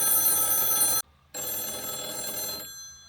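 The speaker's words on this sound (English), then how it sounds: "Real United States payphone that works. It's ringing." A working United States payphone rings at the northernmost point of the contiguous US: two loud, steady bell rings separated by a short pause, clear and close.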